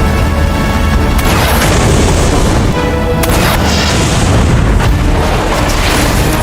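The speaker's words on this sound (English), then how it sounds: "The team knew they'd face heavy fire entering Boro's territory, but they came armed with rocket launchers." Rocket launcher explosions in an action film, continuous heavy booms and blasts packed tightly over a loud roaring soundtrack, close and overwhelming, with no talk.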